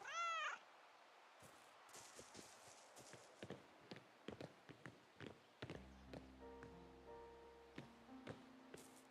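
A cat gives a short rising meow at the start in a post-apocalyptic Australian outback RPG video game, then soft footsteps tap at intervals and a quiet musical tone sets in.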